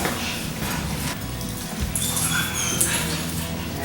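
Dogs during distraction training with a puppy, giving soft whimpers and yips over indoor background noise.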